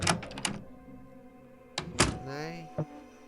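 A door swings open onto the kitchen in Frequency Missing, a point-and-click game, giving a few solid thunks and a creaking sweep, with a voice speaking in between.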